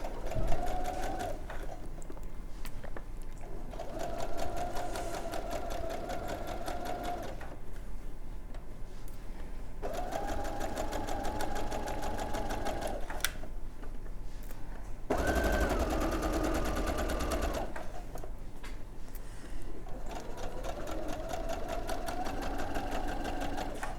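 Sewing machine stitching a centimetre seam allowance around a gathered dress, running in steady bursts of rapid mechanical chatter separated by brief pauses, close and continuous throughout.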